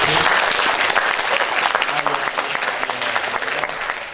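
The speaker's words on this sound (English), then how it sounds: "Please give one round of applause to Ambassador." A round of applause for an ambassador during a webinar on Indonesian bilateral relations, dense clapping that starts loud and gradually thins and fades, with a faint voice near the end.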